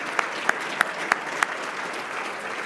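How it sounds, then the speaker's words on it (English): Audience applause for the governor and elected officials at an air quality summit, a steady wash of many hands with a few sharper individual claps standing out at regular intervals. "Will you help me in giving the governor and elected officials a round of applause"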